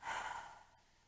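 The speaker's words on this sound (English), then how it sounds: "Double exhale." A double exhale during a yoga cleansing breath in a hatha class, a breathy rushing sigh that swells loud at the start and then tapers off over about a second, heard alone.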